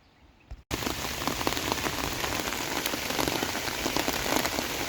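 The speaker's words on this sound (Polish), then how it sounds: "Lunął deszcz." Heavy rain suddenly starts pouring during a storm after a brief quiet moment, a dense, loud, steady hiss of drops drumming on surfaces close by, while fishing beside the Bug River.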